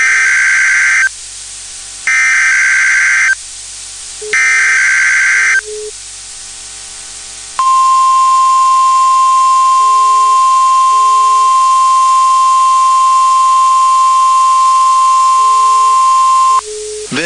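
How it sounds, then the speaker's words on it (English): A NOAA Weather Radio warning alarm sounds loud and steady: a long, unbroken single-pitch tone lasting about nine seconds, preceded by several seconds of harsh, buzzing data bursts that switch on and off. "This is a test of the NOAA Weather Radio Warning Alarm device."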